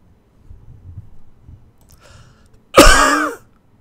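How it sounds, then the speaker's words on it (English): A game sound effect of a harsh cough with a wheeze, one loud close burst after a stretch of faint low rumbling. "That's my coughing sound."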